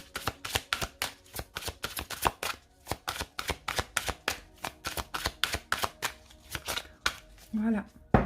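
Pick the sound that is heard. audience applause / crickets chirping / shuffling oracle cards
shuffling oracle cards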